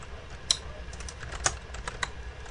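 Typing on a computer keyboard while entering a web link, a few distinct close key clicks scattered irregularly over soft background noise.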